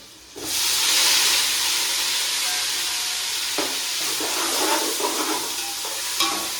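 Washed radish and turmeric drop into hot oil and set off a sudden loud, steady sizzle and hiss. The frying runs on with occasional stirring scrapes and bumps.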